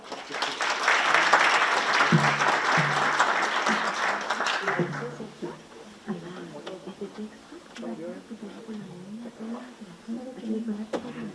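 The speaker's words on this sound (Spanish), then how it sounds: "Un fuerte aplauso, por favor." Audience applause at an early-education seminar, dense for about five seconds and then thinning into scattered claps as a person starts speaking over the fading noise.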